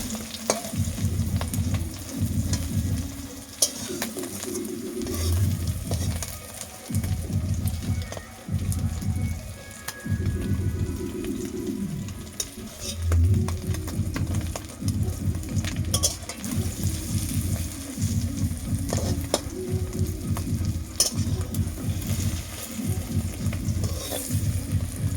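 An egg omelette with curry leaves sizzling in a hot pan, a steady crackling fry throughout with intermittent stirring and scraping bursts, close and fairly loud, with no talk over it.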